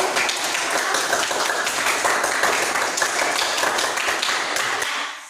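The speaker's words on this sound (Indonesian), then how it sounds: "Mari, tepuk tangan." A class applauds after a group presentation on advertisements, slogans and posters, with steady, dense handclapping for about five seconds that fades out at the end.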